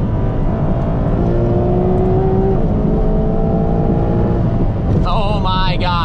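A Ferrari F12 TDF engine drones steadily at high speed from inside the car, with a rising whine near the end and a voice heard over it.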